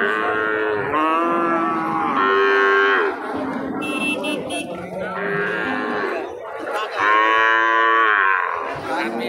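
At a cattle market near the India–Bangladesh border, cattle moo loudly and repeatedly, long drawn-out calls that overlap over a steady background of market noise.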